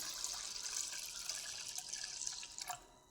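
Water poured over washed, soaked urad dal in a kitchen, a steady quiet running stream lasting throughout, with a few splashy bumps near the end and no voices.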